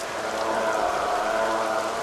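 Steady rain pours in The Isle Legacy survival game, a dense continuous hiss of drops on surfaces with no breaks or voices.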